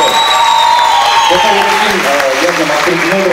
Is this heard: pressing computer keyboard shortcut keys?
no